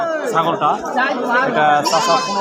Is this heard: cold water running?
no